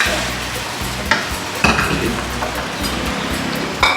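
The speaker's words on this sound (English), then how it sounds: "in goes, the vegetables always go in towards the last" Vegetables stir-fried in a wok with oyster sauce for a Thai beef dish, with a steady broad sizzle and a few sharp spatula clanks against the metal, close and alone.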